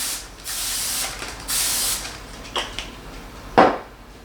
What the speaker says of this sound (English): I am gonna add a little bit of cooking spray just to make it even more non-stick,